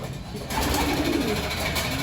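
Pigeons in a loft coo softly against a dense, continuous background, with low murmuring calls that carry through the short stretch at moderate loudness.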